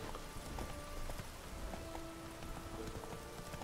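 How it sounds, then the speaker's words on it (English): Steady clip-clop of horse hooves in the video game Deadlock, in a quick, even rhythm, with a soft patter of rain-like noise underneath and no talking. "Did you see my horse?"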